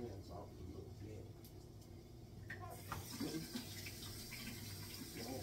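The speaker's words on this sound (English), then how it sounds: "Now, wash my hands off a little bit." Running tap water splashes steadily over hands being rinsed at a kitchen sink while making an Italian sub sandwich, a continuous close wash with a short louder burst of splashing midway.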